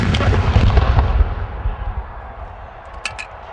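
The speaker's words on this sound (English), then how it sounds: "That's how you fire the cannon." The Virginia Tech Skipper cannon booms once at the start, a loud, close blast with a long rumbling decay fading over several seconds, followed by a brief faint high chirp near the end.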